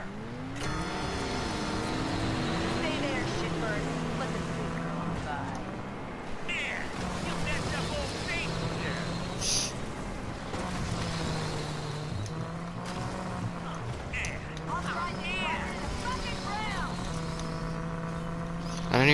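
A vehicle boost effect during a race in RAGE 2 recurs as warbling, pitch-sweeping tones over a steady engine drone and game noise, with several short bursts.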